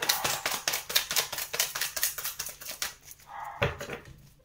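A dog barks in a quick, rhythmic run of short, sharp barks, close and fairly loud, then pauses briefly before one last bark, with no talking.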